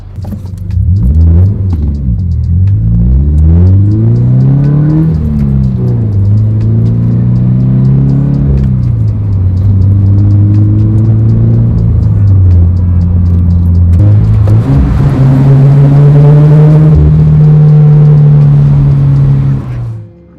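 From inside the cabin, a BRZ/FRS/86 sports car's Invidia N1 exhaust booms loudly and continuously, rising and falling as the engine revs and shifts through gears.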